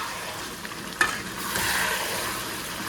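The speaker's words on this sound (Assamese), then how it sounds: "হাঁহৰ তেলতে উতলি আছে।" Duck meat bubbles and fries in its own rendered fat, a steady close sizzle with a sharp tap near the start and the bubbling growing fuller toward the end.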